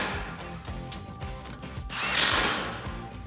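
Power tool driving a 17mm socket on an extension, tightening strut bolts on a Toyota Tacoma during a suspension lift; short whirring bursts with ratcheting mechanical clicks, swelling louder near the end.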